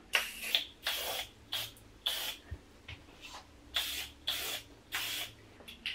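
Dove 3 out of 5 hold hairspray is sprayed onto thick hair in about nine short, sharp hissing bursts with brief gaps between them. The bursts are close and fairly loud, and there is no talk.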